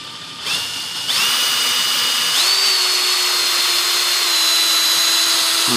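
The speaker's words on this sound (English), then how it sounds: "we're going to now drill that hole" A power drill whirs up in short bursts, then runs steadily at high speed, loud and close, with its pitch holding throughout, drilling a hole in the aileron control surface of an RC glider model.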